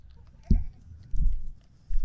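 A mini goat bleats in short bursts, with a couple of close, loud calls separated by brief pauses.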